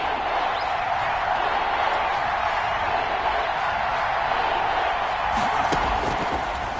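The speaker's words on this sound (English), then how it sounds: "The crowd getting into it as we come up on a big 3rd down." Stadium crowd noise in a PS4 football video game broadcast, a dense continuous roar of cheering that holds steady and fairly loud throughout with no clear voices standing out.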